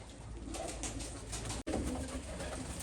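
Large pigeons kept in a loft with their young coo steadily and close by, soft repeated calls filling the whole stretch with no talk, broken by one brief sharp click near the middle.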